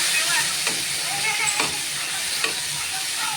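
Tender leaf paste fries with black cumin in a pan, giving a steady close hiss and sizzle with a few faint stirring touches.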